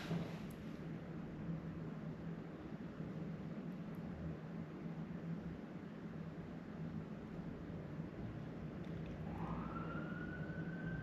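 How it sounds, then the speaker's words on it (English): A fire engine siren wails faintly in the distance, rising near the end above a steady background hiss of town noise. "Oh, it's actually a fire engine."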